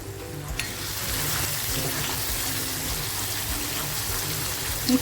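Water hits hot oil in a pan of dhaba-style potato bhaji, a loud steady sizzle and frying hiss that carries on for several seconds close up.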